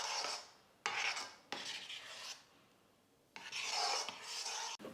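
A spoon scrapes and rubs through mango kesari with ghee in a pan, producing soft, raspy stirring strokes in an uneven rhythm with short pauses between them.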